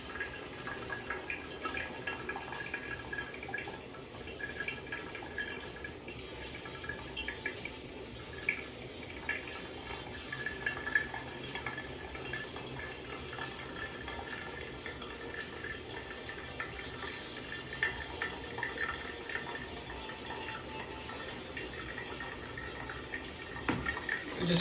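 Hot water poured steadily over ground coffee in a pour-over brewer to bring it up to 300 grams, a soft continuous trickle with faint drips, quiet and close, with no one talking.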